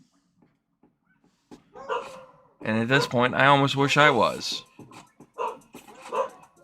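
Several dogs barking and yipping close by indoors, a burst of loud overlapping barks with a whine, followed by a few shorter yaps, while a person talks around them.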